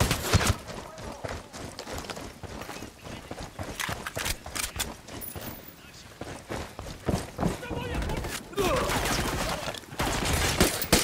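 Gunfire in Tom Clancy's Ghost Recon Wildlands, a steady stream of rapid shots and bursts running throughout, mixed with footsteps and people talking over the action.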